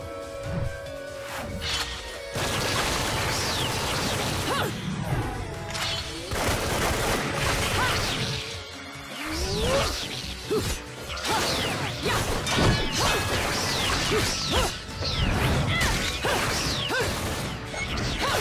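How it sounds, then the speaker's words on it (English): Rapid gunfire from guns in Bayonetta, bright clattering shots and metallic crashes piling up over driving action music, loud and nearly continuous. "Guns!"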